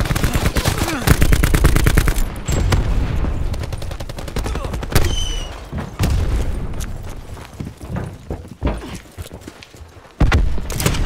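Rapid machine-gun fire and explosion booms fill a Call of Duty Black Ops 4 deathmatch moshpit, loud and continuous with bursts of shots and heavy impacts throughout.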